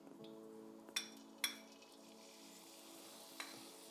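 Onion sizzling in a hot pan during stir frying of beans, a steady soft hiss with a few sharp clinks of a utensil against the pan, close and quiet, no voices.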